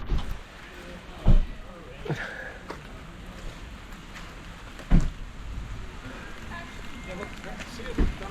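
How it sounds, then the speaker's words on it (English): Rain begins falling on a hike to Manoa Falls, making a steady broadband hiss with a few sharp thumps and knocks scattered through it. "Oh, here comes the rain."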